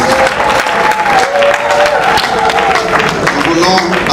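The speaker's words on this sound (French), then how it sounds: "nous acclamons très très fort le Seigneur notre Dieu" A church congregation applauds and cheers loudly in praise of God, producing sustained, dense clapping with crowd voices throughout, steady and close for the whole span.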